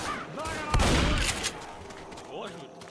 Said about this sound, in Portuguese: O teu Rafa tá atirando.